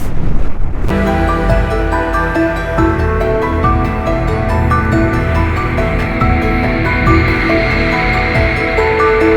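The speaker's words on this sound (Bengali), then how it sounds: "আমি তো পড়ে যাচ্ছিলাম, হাওয়া পুরো এত জোর দিল।" Strong mountain wind near Muktinath in Mustang, Nepal buffets the microphone in a loud, continuous roar with gusting surges and no pauses.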